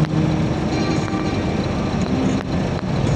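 Car traffic in NCR fills the clip with a loud, dense rumble of idling and slow-moving engines that stays nearly constant from start to finish.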